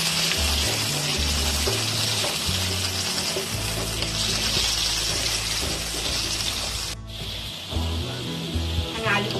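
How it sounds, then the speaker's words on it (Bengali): Potatoes fry in a wok of hot oil for a Bengali pointed gourd and prawn dish, a steady close sizzle with a steady hiss under someone talking, briefly dipping near the end. "আলুগুলো আমি লাল করে ভেজে নেব।"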